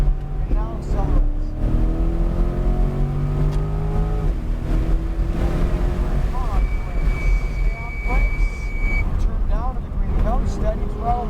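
A Chevrolet Corvette C8 Z51 accelerates on the New Hampshire Motor Speedway track, its engine note climbing steadily through the gears, loud and close, with a voice talking over the engine throughout.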